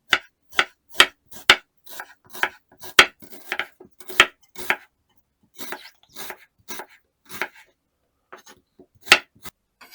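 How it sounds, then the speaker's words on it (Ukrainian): A kitchen knife slicing an onion into half-rings, a run of crisp, close chopping taps in an uneven rhythm with short pauses, with no talking. "Цибулю нарізаю напівкілечками"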